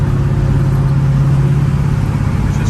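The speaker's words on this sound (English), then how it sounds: "Yeah, the car feels real good." A car cruises at a steady pace, its engine holding a constant low hum and whir throughout with no shifts or speech.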